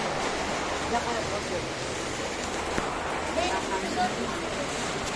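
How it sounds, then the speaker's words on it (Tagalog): Super Typhoon Pepito's roaring wind and rain blend into a dense, steady wash of noise, with faint voices occasionally breaking through. "Ang lakas ng bagyo."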